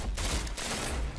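Gunfire in the online shooter Destiny 2 during a two-on-one fight, a dense loud burst of shots filling the short moment with no voices.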